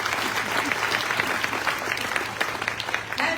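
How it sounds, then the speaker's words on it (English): Applause from an audience at a county State of Small Business address, a dense, steady burst of many hands clapping that carries on throughout with no speech over it. "Give him a big round of applause."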